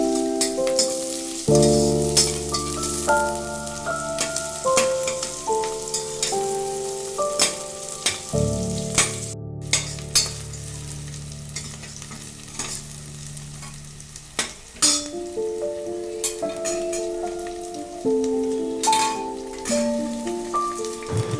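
Onions and green chillies sautéing in a pan for cauliflower biryani, with continuous sizzling and repeated scraping strokes of a spoon. A steady tonal hum runs underneath, and the frying carries on loud and close.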